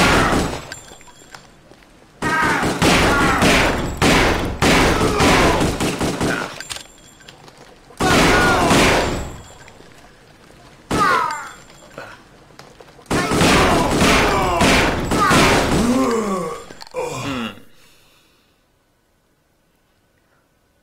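Shotgun blasts and gunfire in the video game Kingpin arrive as several loud, dense bursts separated by short pauses, with a voice talking among them before the sound fades into near silence at the end.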